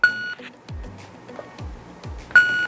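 A Pocket Pro II shot timer emits a steady electronic beep, then sounds again after a pause, with a few soft clicks and thumps of handling in between.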